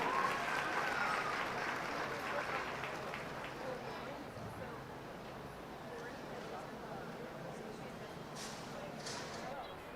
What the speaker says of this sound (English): Let's have a round of applause for our Class 2 exhibitors.